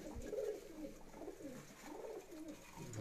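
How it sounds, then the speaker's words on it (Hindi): A twelve-year-old Shaheen Teddy pigeon coos in soft, low rolling phrases that repeat across the moment, heard close against a steady background hum with no talking. "ये इस टाइम 12 साल का कबूतर है।"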